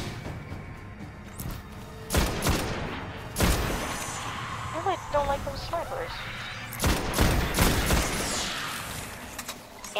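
A video game firefight plays out with repeated gunshots and a grenade blast. The bursts are loud and mixed with game sounds, and the players talk over the action throughout.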